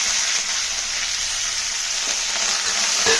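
Onion pieces fry in a pan with garlic and curry leaves, a loud, steady, close sizzle that carries without a break and without any talk.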